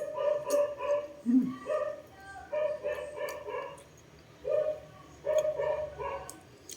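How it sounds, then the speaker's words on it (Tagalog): A family dog barking at the neighbours, a series of sharp, fairly loud barks in short bursts with pauses between, plus one lower yelp, outdoors against a faint steady background. "tahol ng aso namin sa kapitbahay"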